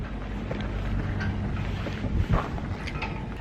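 Wind blowing outdoors buffets the microphone as a steady low rumble throughout, swelling into a stronger gust about two-thirds of the way through.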